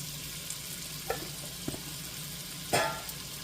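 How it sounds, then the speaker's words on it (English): Onions fry in melted butter and oil over medium-high heat, a soft, steady sizzle with a few sharp clinks and scrapes of a utensil against the pan, fairly quiet and close. "I'm going to add the onions"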